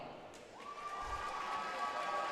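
A big crowd at a high school basketball game (TCA vs Jackson Christian) applauds and cheers for senior cheerleaders, with steady broadband clapping and crowd noise throughout, a sustained whistle-like tone running through the middle.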